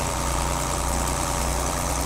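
Tractor engine labouring under load while pulling a 12-foot rotavator through a cultivated field in Farming Simulator 22, an HMT 5911 giving a steady, loud, low droning rumble throughout.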